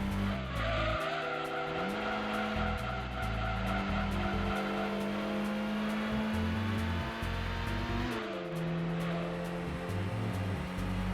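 Race car in the Gran Turismo 2 video game, engine revving loudly with repeated gear shifts as the tires skid and squeal through a corner; continuous and close, with no talk.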